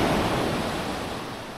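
Sea waves wash onto a beach at night, a steady broad hiss of surf with no distinct breaks, fairly loud and close, slowly easing off.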